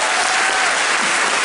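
Audience applause at a gaming convention conference, a dense steady clapping from a crowd that fills the whole moment without break.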